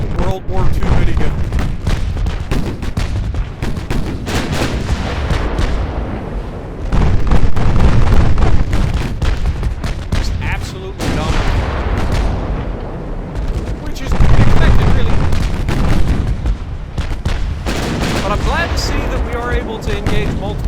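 Rapid naval gunfire from a battleship engaging many destroyers in the Ultimate Admiral Dreadnoughts game, a dense, continuous barrage of booming shots and explosions rolling on throughout, with someone talking over it.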